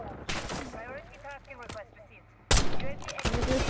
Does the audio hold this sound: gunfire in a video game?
yes